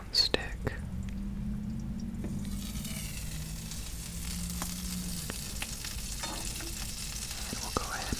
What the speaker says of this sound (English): we'll go ahead and flip them one more time while the butter is melting in our egg pan